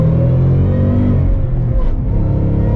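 Shelby Mustang Signature Edition V8 blipped on the throttle outdoors in cold weather, a loud, deep rumble that surges up and then settles back to a heavy idle, heard up close with no talking.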